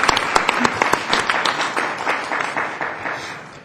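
Applause at a city council meeting, a burst of clapping from a modest crowd, sharp individual claps that gradually thin out and fade toward the end.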